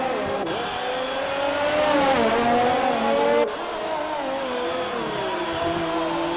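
Race car in a racing video game on the Singapore circuit, engine droning steadily with pitch sweeps as it brakes and accelerates, loud and continuous, with a sharp shift partway through.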